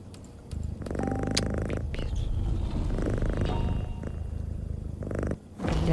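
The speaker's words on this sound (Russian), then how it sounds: "Я думала, эта дверь открывается со звуком мурлыканья кота" A door in a horror video game opens to a loud, steady cat purr that runs almost the whole stretch, rumbling low and continuous with brief dips and a short gap near the end.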